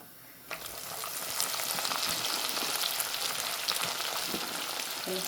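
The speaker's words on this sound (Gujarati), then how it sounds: "આવી રીતના બધા આપણે તળી નાખીએ પહેલાં." Loud, close sizzling of food frying in hot oil starts abruptly and continues as a dense crackling hiss throughout.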